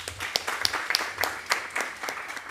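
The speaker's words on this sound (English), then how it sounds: "So you deserve a round of applause." A sparse round of applause from a modest audience at a book launch hosted by the University of KwaZulu-Natal, with individual claps standing out in an irregular, fairly close patter.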